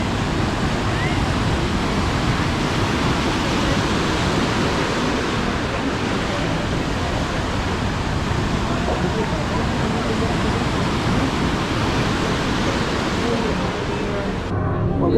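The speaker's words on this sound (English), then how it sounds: "the sound of the waves hitting the shore" Ocean waves wash steadily onto the shore beside a pier, a loud, continuous broadband rush of surf with no break and no voices.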